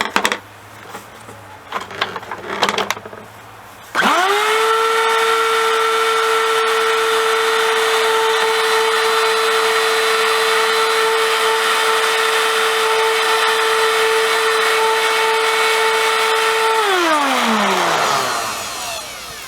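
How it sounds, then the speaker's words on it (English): After some clattering, a vacuum cleaner motor whines up to a loud, steady high-pitched drone, holds for about twelve seconds, then winds down as it switches off. "That noise is just the motor in there."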